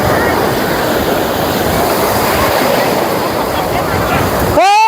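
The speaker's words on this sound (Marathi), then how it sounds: "मोठी लाट आली तिकडं" Ocean surf rolls and roars steadily along a Konkan beach, a continuous loud wash of breaking waves with wind buffeting the microphone, ending in a brief high squeal or shout.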